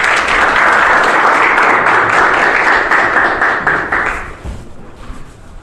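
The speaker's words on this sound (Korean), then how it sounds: "귀한 강인 목사님 박수로 한번 맞이하겠습니다" Loud, dense applause fills a seminar hall as an audience of pastoral candidates welcomes a pastor to the stage, sustained for about four seconds before thinning out and fading.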